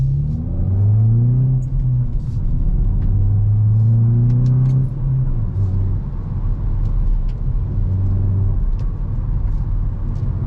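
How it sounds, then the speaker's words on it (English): A 2022 Hyundai i20 N with 204 horsepower, a manual gearbox and a loud exhaust drives on the road. The engine and exhaust rise and fall through several revving pulls, with deep rumbling heard from inside the cabin. No talking. "you will hear how the car sounds when we are driving it"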